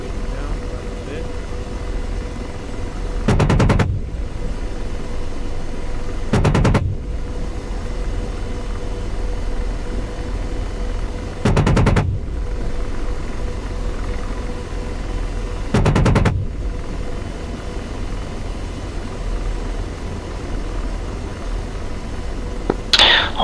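AH-64D Apache helicopter cannon firing in DCS, four short heavy bursts spaced several seconds apart over a constant rotor drone, with radio voices talking between them.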